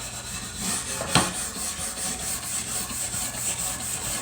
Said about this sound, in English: We're going to just kind of give it a good scratching.